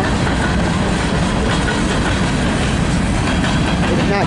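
A train on the Norfolk Southern line in Fostoria, Ohio rolls past close by, a loud, steady rumble of wheels and cars with continuous rail clatter filling the whole stretch.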